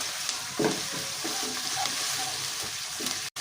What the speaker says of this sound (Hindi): चिकन को हमने अच्छे तरीके से फ्राई करना है।